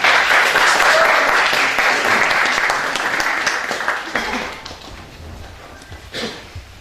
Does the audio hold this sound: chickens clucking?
no